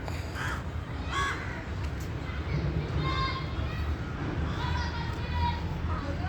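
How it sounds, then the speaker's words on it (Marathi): Crows caw repeatedly in an open village area, a run of loud harsh calls against steady outdoor noise, with a voice heard at moments among them. "कावळेच नुसतंच ओरडतात,"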